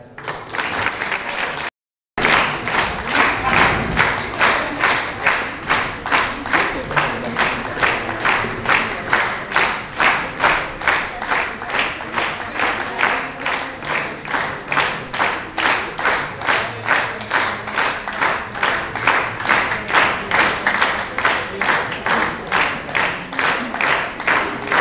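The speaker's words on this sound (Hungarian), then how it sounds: "nagyon szépen köszönjük a tapsot." Audience applause at a ball for people with reduced mobility in Forráskút, Hungary: loud, sustained rhythmic clapping in unison, briefly cut by a short gap near the start, then continuing steadily.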